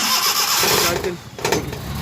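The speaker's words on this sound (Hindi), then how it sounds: "अभी इसको हम गाड़ी को स्टार्ट करेंगे" A Suzuki Bolan van cranks and fires after a fuel pump repair, the starter whirring before the engine catches and settles into a rough running note, with someone talking over it.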